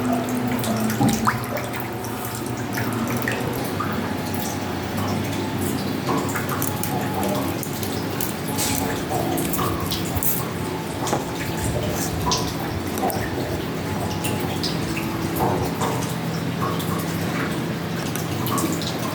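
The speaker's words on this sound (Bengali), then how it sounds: "মাছটাকে বেশ ভালো করে ধুয়ে নেব" Fish is rinsed under a running kitchen tap, with water streaming steadily into a sink and splashing over it for the whole stretch, close and moderately loud.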